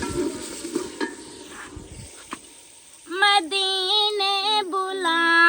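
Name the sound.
food being roasted in a pan after a sprinkle of water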